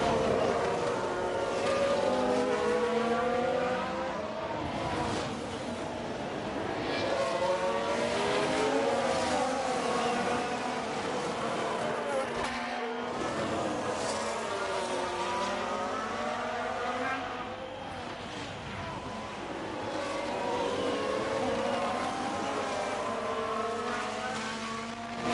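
A Haas F1 race car engine in the F1 Manager 22 game at Zandvoort drones continuously with shifting pitch as revs rise and fall, loud and steady for the whole stretch, with no talk over it.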